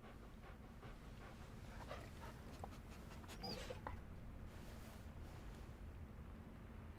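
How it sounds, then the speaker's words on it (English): A direwolf or dog in the video game Beast of Reincarnation whimpers and pants softly, faint against a steady low rumbling background, with a brief higher whine around the middle. "Cute direwolf or dog."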